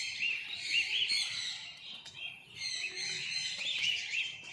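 Many small birds in a walk-in aviary chirp and twitter together in overlapping high calls, a busy continuous chorus with some soft low croaking underneath.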